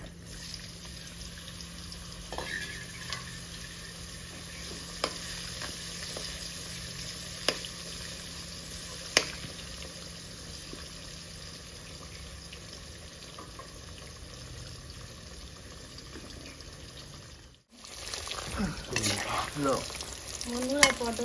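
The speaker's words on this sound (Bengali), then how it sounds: "পটলগুলো ভেজে নেবো" Pieces of pointed gourd frying in a pan of oil, a soft continuous sizzle with occasional clinks and stirring scrapes, then a louder burst of clattering activity near the end.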